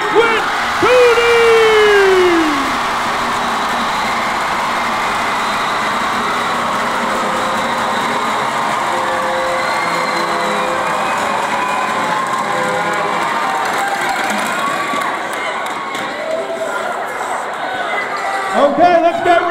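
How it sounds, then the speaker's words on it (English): A school pep rally crowd in a gym cheers and applauds loudly for an all-state cross-country champion, a steady broad roar of claps and shouts that runs the whole time, with a PA voice speaking over it at the start. "Can we get a big round of applause for our all-state cross-country champion, Quinn Cooney?"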